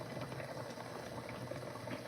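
A pot of water boils at a steady rolling bubble, a dense continuous gurgle heard up close and fairly quiet, with no speech.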